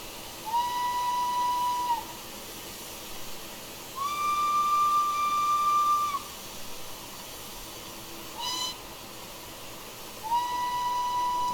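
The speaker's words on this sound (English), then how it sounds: "We do have a dual whistle, so primary and secondary." A video game steam locomotive whistle from an LSWR T3 4-4-0 blows three long, steady blasts separated by pauses, with a faint hiss of steam underneath and a brief burst of venting.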